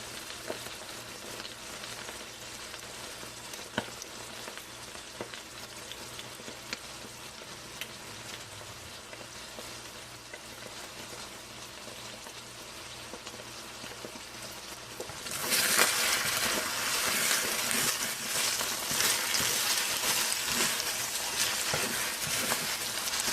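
Egg sizzles and crackles steadily in a hot pan for fried rice, a dense, close frying hiss that grows noticeably louder and brighter partway through, with no talking.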